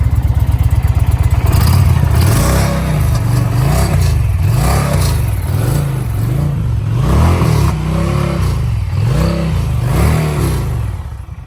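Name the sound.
Indian Pursuit 2023 motorcycle engine revving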